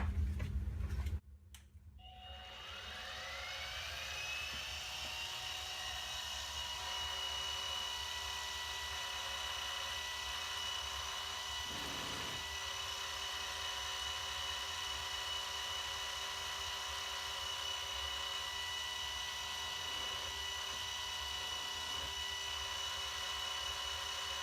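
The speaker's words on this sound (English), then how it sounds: "now I need to go on this side and actually do the countersink for all the holes" A drill whines steadily while countersinking holes in the body of a budget Telecaster-style guitar kit. A brief clunk starts it, then a high sustained tone runs close and continuous with little variation.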